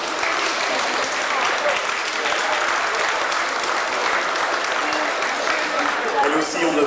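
A loud, dense round of applause from a variety-show audience for a female singer, steady and sustained for the whole stretch with crowd noise mixed in.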